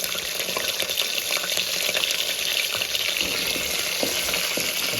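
Green chillies crackle and sizzle in hot oil with tempering seasoning for upma made from barnyard millet, a steady close frying hiss with small pops and occasional stirring clinks and no talk.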